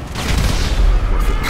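A big suicide-bomb explosion in the GTA video game bursts out as a loud, sustained booming rumble with crackling gunfire-like texture lasting the whole moment, with faint speech underneath.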